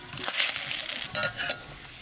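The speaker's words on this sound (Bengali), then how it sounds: "তেলের উপর দিয়ে দেবো লং, দারচিনি, এলাচ আর তেজপাতা, শুকনো লঙ্কা।" Whole spices (cloves, cinnamon, cardamom, bay leaf and dried chilli) hit hot oil, giving a close, bright sizzle with crackling bursts over two seconds.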